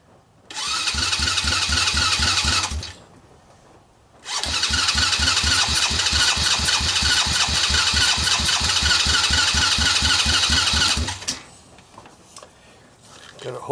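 A mid-size Chinese ATV with a high-performance pit bike engine cranks on the electric starter in two long, loud, close bursts of rapid rhythmic whirring, separated by a short pause, without catching.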